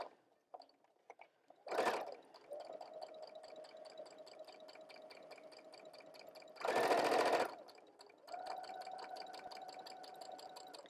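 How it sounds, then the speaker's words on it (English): A sewing machine stitches a seam on a pleated-sleeve top with a steady, fast mechanical whir and rapid needle ticking, running in two long bursts separated by a pause and short clatters of handling, close and clear. "I keep sewing a couple of stitches past"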